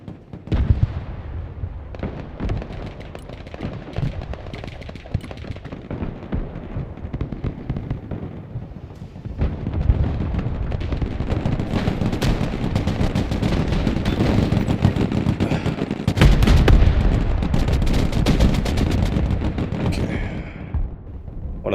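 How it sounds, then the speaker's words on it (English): A tank in the Broken Arrow video game fires through a building, set among a dense, rumbling barrage of heavy shots and crackling impacts that grows louder and busier partway through, with voices faintly underneath. "One of those tanks is busy firing at me through the building."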